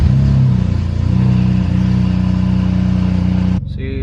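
BMW M3 (F8X) engine running at idle after starting, a steady low rumble close by with a slight rise early on, cutting off abruptly near the end.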